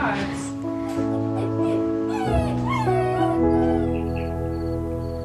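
A dog whimpers and yips in thin, wavering cries, heard over a steady tonal background and a voice speaking throughout.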